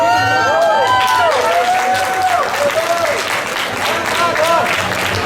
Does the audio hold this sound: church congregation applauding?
yes